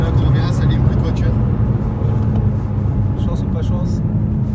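A powerful BMW M6 engine idling with a steady, deep, even rumble heard from inside the car, loud and constant throughout, with a voice speaking over it.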